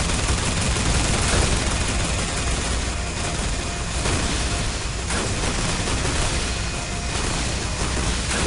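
Dense, continuous gunfire in the online shooter Planetside during a large Rabbit event, with layered rifle bursts and booms merging into a loud, unbroken wall of battle noise.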